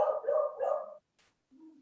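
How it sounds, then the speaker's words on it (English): A dog barks indoors near an open door, giving a short run of loud, rough barks for about a second, then a faint low whine after a brief pause. "the door's open and he barks at everything"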